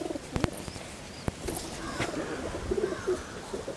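Tamil Nadu pigeons cooing in a breeding loft where eggs have been laid, soft repeated coos close by over a low background, with a few sharp clicks and flutters among them.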